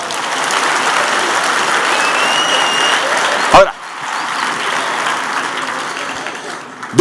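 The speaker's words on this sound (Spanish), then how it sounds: "Dele un aplauso al rey" Church congregation applauding during a Wednesday sermon, a dense steady wash of clapping that carries for several seconds, breaks off sharply, then continues more softly to the end.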